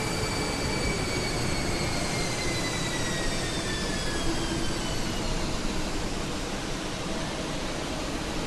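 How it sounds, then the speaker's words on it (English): Engine 2 of a Fenix A320 spools up in the MSFS2020 flight simulator, a loud, continuous roar with thin whining tones that slowly rise as it starts. "Starting engine 2."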